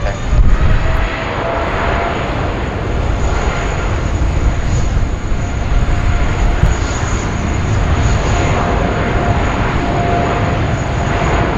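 An airliner accelerates down a Sydney Airport runway for takeoff, a loud continuous roar of jet engines with broadband rumble and steady hiss lasting throughout, heard from nearby with faint radio chatter beneath.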